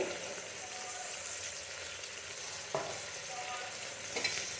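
A pan of vegetables with ginger and garlic, cooking before broken rice goes in, is stirred over a steady close sizzle, with a couple of distinct scraping strokes of the spoon.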